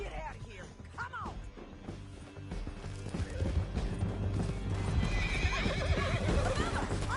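A horse neighs twice and its hooves clop beneath a dense, busy mix in the Red Dead video game, with crashes and rising action building toward the end.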